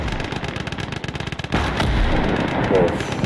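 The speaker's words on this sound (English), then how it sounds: "Artillery duel now, can commence." Artillery and gunfire in the WWII strategy game Call to Arms Gates of Hell Ostfront, with a quick run of close shots giving way to a heavy booming blast and rumbling aftermath as battle noise continues.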